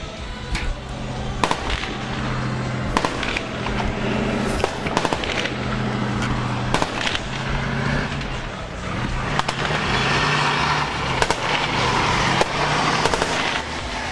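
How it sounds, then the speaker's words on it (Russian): A tank fires at buildings during urban combat in Jobar, Syria, alongside sharp, irregular bangs and cracks of gunfire over a constant rumbling engine drone, heard close and loud. "Танк, пройдя вперед по улице, бьет по зданиям дальше за перекрестком"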